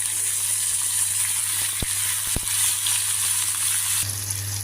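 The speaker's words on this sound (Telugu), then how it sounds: "టమాటా ముక్కలు మగ్గుతున్నాయి" Chopped raw tomato pieces cooking in oil in a covered pan give a continuous soft sizzle and bubbling hiss with a steady low hum underneath and a couple of faint clicks, close by with no talking.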